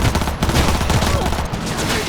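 Rapid automatic gunfire in the video game Cyberpunk 2077 on PS5, a loud, continuous fusillade of close shots with chaotic combat noise throughout the short burst.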